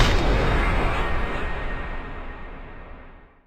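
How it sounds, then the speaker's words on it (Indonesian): A single loud, booming pistol gunshot with a long rolling echo that fades away over a few seconds. "akibat suara tembakan tersebut"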